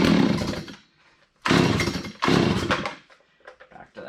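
Chainsaw engine run with the choke off while readied for firewood cutting, surging in loud bursts: a roar, a brief lull, then two more revving pulses that fade into sputtering.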